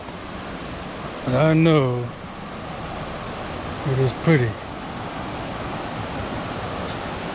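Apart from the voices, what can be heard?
waterfall at Bambarakanda Falls, Sri Lanka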